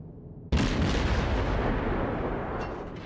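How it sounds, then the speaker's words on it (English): A warship's heavy guns fire in the World of Warships naval video game: one loud, deep boom breaks in at half a second and rolls on as a long, dense rumble that fades slowly to the end, with no talk. "now he's shooting at me"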